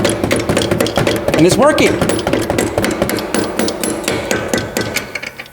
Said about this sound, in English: use my rubber mallet and see if I can make this go back